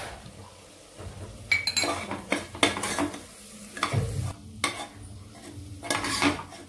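Mixed vegetables and masala stir-fried in a pot for veg pulao, with a soft sizzle beneath several loud spatula scrapes and clinks against the metal pan, coming in irregular bursts.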